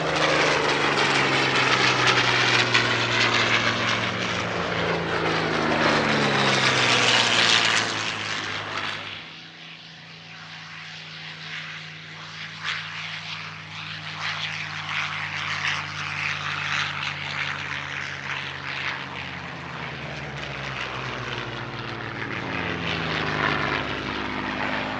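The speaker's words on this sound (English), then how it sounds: "The Fighter Collection's example is one of just two Merlin engine Warhawks still flying." Merlin-engined Curtiss P-40 Warhawk fighter flying at an airshow in France, a loud, sustained propeller-engine roar that swells and fades as it passes, settling into a steady drone.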